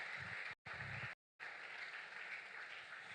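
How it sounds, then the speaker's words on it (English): Audience applause for a chairman at the Enactus Nigeria national competition and 25th anniversary celebration, a steady wash of clapping that drops out briefly twice before resuming, heard faint and distant. "We can make that applause louder for our chairman."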